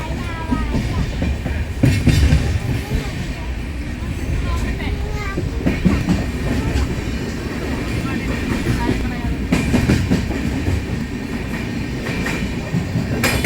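A train in Kerala rumbles steadily along the rails toward Sasthamcotta station with rhythmic clatter and occasional bursts, while passengers talk over the continuous noise.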